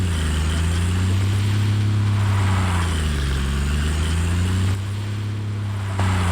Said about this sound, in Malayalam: ഓട്ടോമാറ്റിക് ഇട്ടിട്ട് ഡ്രിഫ്റ്റ് അടിച്ചുകൊണ്ടിരിക്കുകയാണ്.